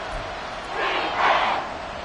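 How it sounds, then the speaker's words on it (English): A packed Arrowhead stadium crowd roars during a Chiefs–Bengals football game, a broad wash of cheering that swells twice to a louder peak, with some talk underneath. "The Arrowhead crowd in full roar."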